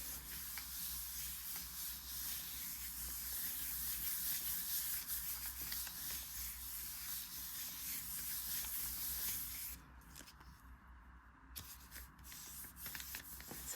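Paper smoothed by hand onto a gel printing plate for a botanical print, a soft continuous rubbing hiss close up, steady for about ten seconds before easing into fainter, broken strokes.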